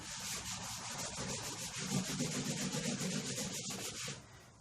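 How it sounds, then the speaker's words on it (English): A cloth wiping dirt off the casing of a professional audio amplifier, a steady close rubbing and scrubbing texture with rhythmic strokes that stops abruptly near the end. "Wiping the dirt off."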